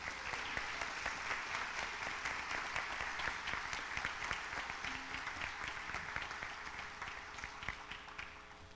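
Audience applause at a pharmacy school white coat ceremony, a steady, sustained wash of many hands clapping that carries evenly for nearly nine seconds before tapering slightly at the end.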